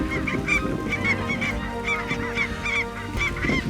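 Flocks of snow, blue, Canada and specklebelly geese honking in steady, overlapping calls at a waterfowl hunt, a dense continuous chorus at moderate distance with no talk.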